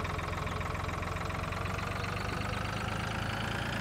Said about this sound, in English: We'll grab a different tractor this time.